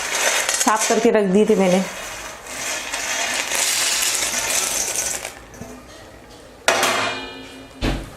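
Peeled peanuts tumble into a pan on low gas, giving a rattling, clattering scatter against the metal followed by lighter scraping and a few sharp clinks, while someone speaks briefly over the sound.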